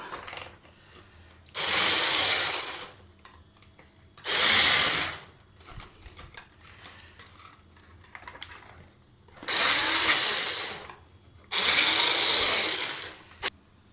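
Cake batter being stirred in a bowl after oil is added, four loud bursts of scraping, whirring mixing separated by quieter pauses, close by with no talk.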